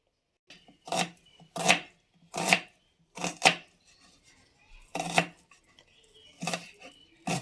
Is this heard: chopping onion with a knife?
yes